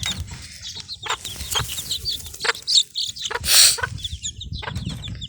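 A Mille Fleur hen clucks softly and repeatedly among her chicks, whose high thin peeps chirp busily around her at close range, with occasional light rustling.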